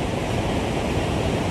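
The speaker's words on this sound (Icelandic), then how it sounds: "Þetta skrýmsli hérna á bak við mig, óbóðslega kröftugur, kröftugasti, öflugasti fossi í Evrópu" Dettifoss in Iceland, a waterfall 44 metres high and 100 metres wide, roars as a steady, dense, broadband rush close by, with no voices.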